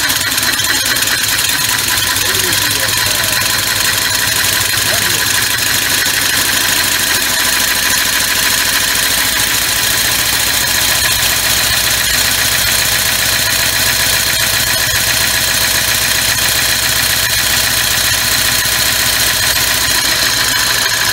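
A three-cylinder six-stroke oval air engine runs on compressed air at 40 psi through a pressure regulator, with a loud, steady, fast mechanical rattle and hiss that carries on unbroken for about twenty seconds close up.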